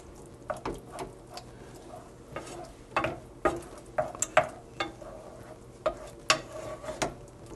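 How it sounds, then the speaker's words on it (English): Broth being stirred into a Beef Wellington mixture in a pan, with scraping and clicking spoon strokes at an irregular pace over a low sizzle, close and moderately quiet. "we'll just start stirring it until it comes together and we get rid of all the liquid"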